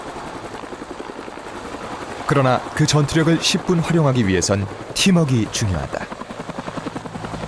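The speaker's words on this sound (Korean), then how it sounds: "산악 지역이 많은 우리나라 지형에 적합한 공격 헬기 코브라." An AH-1 Cobra attack helicopter, flown by the army in mountainous terrain during a live-fire training exercise, drones steadily in the background beneath continuous narration and spoken voices.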